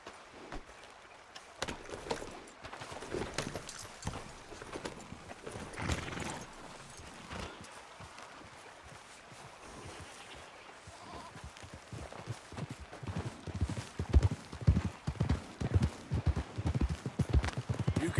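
Horse hooves clip-clop in Red Dead Redemption 2, a steady rhythmic plodding that grows louder and more distinct toward the end, with faint background ambience and no talk.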